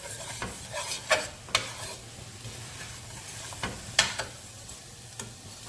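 Tomato puree being stirred into a sofrito in a pan for spaghetti Bolognese, with a low steady sizzle and several sharp scraping strokes of the spoon spread unevenly, close and moderately quiet.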